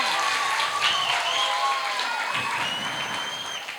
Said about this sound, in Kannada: ಅಲ್ಲಿ ಜೋರಾಗಿ ಚಪ್ಪಾಳೆ ಒಂದ್ಸಾಗೆ.